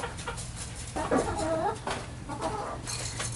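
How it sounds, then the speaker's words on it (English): Backyard hens cluck softly in their run, giving a few short, close murmuring calls over a low steady background hum. No one speaks. "My chickens are in here all day"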